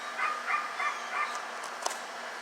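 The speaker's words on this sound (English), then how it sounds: "Excuse the dog down the street." A dog barks down the street in a short run of about four evenly spaced yaps, distant and moderately faint, with no one speaking.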